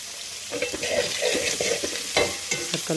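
Onions frying and being stirred in a pan as salt and turmeric go in, with scraping spatula strokes and a steady close sizzle.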